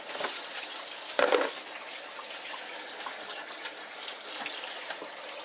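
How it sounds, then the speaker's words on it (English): Tap water runs steadily into a sink as a raw turkey is washed under it, with a brief splash and clatter partway through. "So you just want to give your turkey a wash."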